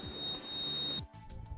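Treatment device sounding an electronic beep at the end of its timed session, a steady tone lasting about a second, then quiet room noise.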